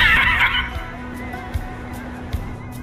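A horse in the racing game The Crew Motorfest whinnies briefly at the start, followed by a few soft hoof thuds under a low steady hum.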